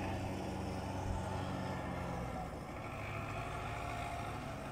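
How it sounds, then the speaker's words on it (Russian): A tractor clears snow in the background during heavy snowfall outside Moscow, a steady low engine drone running continuously behind wind noise, fairly distant and even, with no talk. "Ну, вон на фоне появился трактор."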